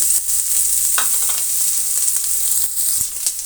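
Chopped onions fry in a pan with a strong, steady hiss and sizzle, close and continuous, punctuated by occasional soft stirring scrapes, with no voices.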